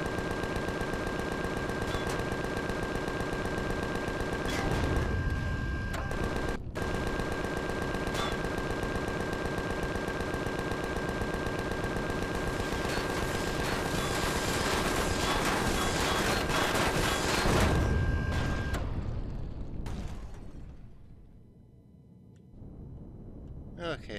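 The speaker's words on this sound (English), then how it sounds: "Oh, he's shooting at me." Enemy gunfire in the space survival game Empyrion, a dense, continuous stream of shots over a steady game soundtrack and ambience, fading out near the end.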